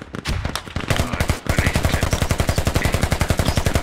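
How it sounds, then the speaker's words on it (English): Gunfire in the multiplayer military shooter game Squad, with a few scattered shots at first giving way to sustained, rapid automatic bursts that sound loud and close throughout. "Where are the shots coming from?"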